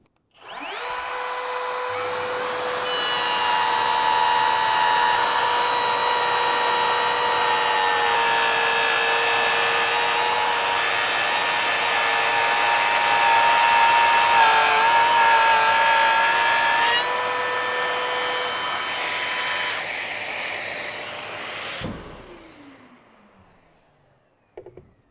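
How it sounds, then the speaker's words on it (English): A Bosch GLF 18V-8 cordless edge router and laminate trimmer cuts a 5 mm deep pass in wood. The motor whines steadily and loud for about twenty seconds, then winds down to silence, with no talking. "we have the GLF 18V-8, an affordable edge router and laminate trimmer"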